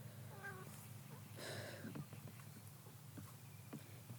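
A cat meows a couple of times, short harmonic calls near the mic, over a steady low hum in an indoor room.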